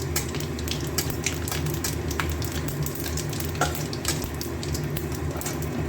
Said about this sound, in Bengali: ফোড়নগুলো একটু গন্ধ ছড়াক তেলের মধ্যে